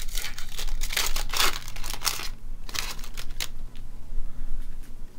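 A Yu-Gi-Oh Battles of Legend: Relentless Revenge booster pack being torn open close up, with crisp crinkling and ripping of the foil wrapper in bursts over the first half, then quieter rustling of the pack and cards.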